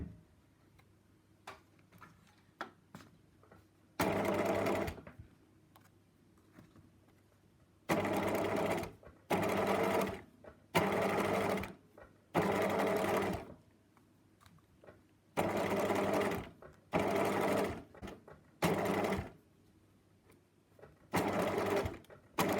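A sewing machine with a zipper foot stitches cord into fabric in about nine close, loud bursts of fast rhythmic chattering. Quiet pauses and faint handling sounds fall between the runs.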